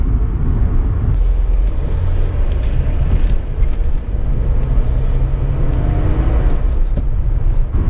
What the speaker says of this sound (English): I vote that we head out and go and find somewhere we can test drive them.